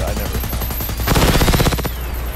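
Explosion in the video game Generation Zero, a heavy crackling burst that swells partway through and rumbles with rapid popping debris before fading, with no talk over it.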